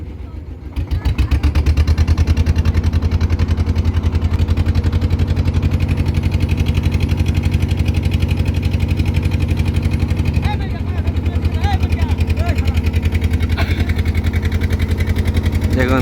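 A motor boat engine chugs steadily while crossing the Damodar River, a loud, continuous low throb that holds evenly throughout with a brief dip near the end, and faint talk occasionally beneath it.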